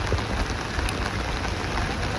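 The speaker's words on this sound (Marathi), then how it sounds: "पाऊस जोरात आहे" Heavy rain pours down steadily in a loud, dense, unbroken roar of drops; no talking.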